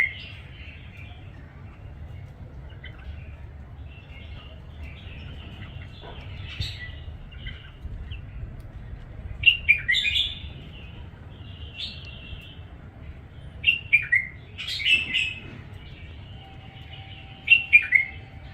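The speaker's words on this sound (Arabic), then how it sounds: "هاي طيور تغرد، حتى لا حد يقول هاي طيور ما يغردن" Small young birds kept at a home in a residential neighbourhood chirp and sing close by, with scattered bright calls that grow into quick clusters against a quiet background.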